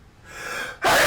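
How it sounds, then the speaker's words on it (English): A single close sneeze: a rising breathy intake followed by a sharp, loud burst of air. "gotta sneeze"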